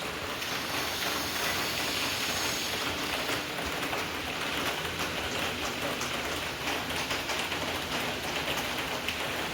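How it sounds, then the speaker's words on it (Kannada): Light drizzle falls outdoors in Mysore, a steady, even patter of rain on surfaces filling the whole stretch at moderate loudness, without any talking. "ಹೊರಗಡೆ ಮಳೆ ಕೂಡ ಬರ್ತಾಯಿದೆ"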